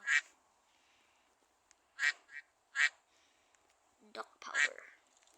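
Quack sound effects from a duck character in a Roblox obby game, several short separate quacks spaced a second or so apart, clear and close over a near-silent background, with faint clicking between them.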